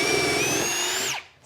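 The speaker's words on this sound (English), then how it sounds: "Get your sister to help you and drill all the pocket holes." A power drill bores pocket holes with a Kreg Jig 720 for an outdoor coffee table, a close, loud, steady high whine that winds down abruptly near the end.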